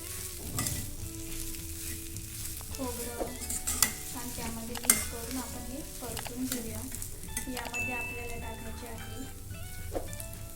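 Ground masala paste with coriander powder, cumin and chopped coriander sautéed in a pan until dry, a continuous near sizzle broken by repeated spatula scrapes and stirring knocks, with faint talk in the background.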